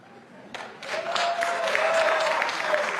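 A studio audience at a televised election debate breaks into applause, swelling from scattered claps into sustained, fairly close clapping with faint crowd murmur.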